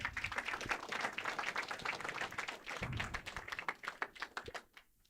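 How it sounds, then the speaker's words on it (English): An audience claps at a youth leadership breakfast program, brisk, fairly close hand claps that thin out into a few scattered final claps. "Let's give him another round of applause."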